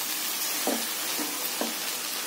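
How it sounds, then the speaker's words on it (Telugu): Soaked red rice poha tossed into a sizzling tempering and stirred, a steady bright hiss with a few soft scraping stirs on top. "ఇలా నానబెట్టుకున్న పోహాని పోపులో వేసుకొని కలుపుకోవాలి"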